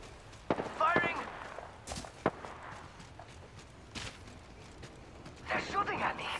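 Gunfire in the battle-royale shooter Apex Legends: scattered sharp shots and a few bursts, medium distance, mixed with footsteps and movement noise, with a voice talking over parts of it.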